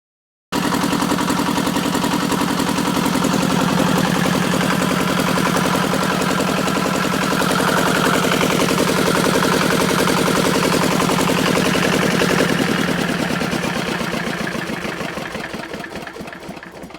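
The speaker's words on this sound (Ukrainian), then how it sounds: "двигун працює" A small Zubr engine with a seizing problem runs steadily at idle with a fast, even chugging rhythm, close and loud, loosening slightly toward the end.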